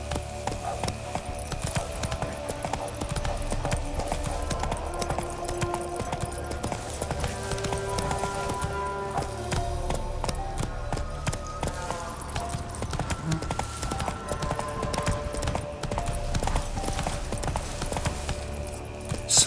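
Roach, the horse in The Witcher 3, gallops on and on with a rapid, steady hoof rhythm, layered under game music and ambience.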